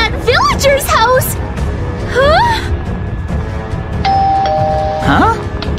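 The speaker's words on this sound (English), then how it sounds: "It's ringing the doorbell!" A doorbell chime rings at a villager's house in Minecraft, a short clear tone near the end, amid excited gasping and exclaiming voices.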